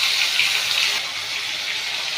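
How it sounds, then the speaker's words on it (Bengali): Fish pieces sizzle in hot oil, turned on both sides until crisp, making a loud, steady hissing crackle close to the microphone. The sizzle eases slightly partway through, and no voices are heard. "মাছগুলোকে এপিট ওপিট করে ভালো করে কড়া করে ভেজে নেব"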